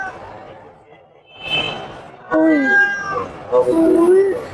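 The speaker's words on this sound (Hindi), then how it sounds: "ये देखो बिल्ली है ना" A cat at a pet market meows several times, with rising, drawn-out calls that grow louder and closer, alongside people talking and brief laughter.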